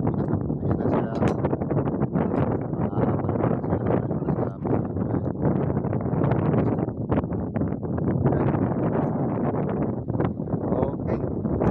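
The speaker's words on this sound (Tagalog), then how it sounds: "Grabe ng hangin guys" Strong wind buffets a small fishing boat out on the water in summer, roaring and gusting continuously across the whole stretch with a rough, heavy rush.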